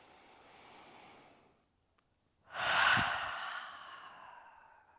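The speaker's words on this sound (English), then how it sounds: "Inhale. Exhale." Deep yoga breathing during a pregnancy yoga class: a soft, slow inhale followed by a short pause, then a fuller, audible exhale like a sigh, close and quiet.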